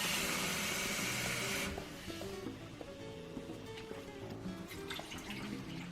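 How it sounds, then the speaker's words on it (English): Water pours into a cooking pot of Indonesian spices at a lakeside campsite, a loud rushing splash for under two seconds that gives way to quieter clinks and background sounds. "Just put water a little bit."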